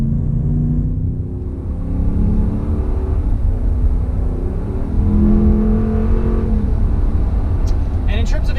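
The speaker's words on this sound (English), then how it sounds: "We're going to get a little bit of an acceleration here." A 2019 Ram 3500 Laramie pickup with a 6.4 liter engine and 8-speed automatic pulls away, its engine rumbling up steadily from inside the cab while someone talks over it throughout.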